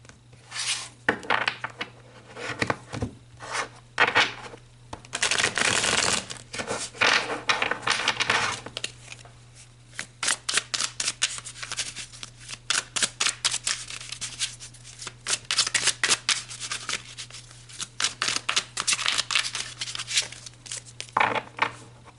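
Tarot cards are shuffled by hand in repeated riffling bursts separated by brief pauses, with soft taps and slides in between. The sound is close and moderately loud, with a steady low hum underneath.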